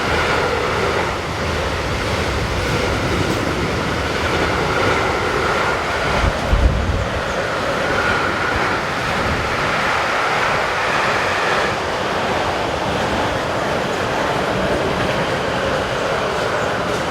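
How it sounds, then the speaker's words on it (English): A new Class 187 electric locomotive, number 100, passes northbound hauling a freight train on the busy Fulda–Bad Hersfeld mainline in Germany, a continuous wash of rolling wheel and rail noise with a brief low thump midway. "new Class 187 number 100, heading north with EZ 51828 from Mannheim to Marschen"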